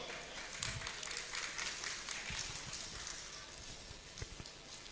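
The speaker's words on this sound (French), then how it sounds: "Une fois encore, applaudissez pour Docteur." Scattered audience clapping at a UFDG general assembly meeting, a soft, crowd-wide patter of hands with a few sharper claps, sounding somewhat distant.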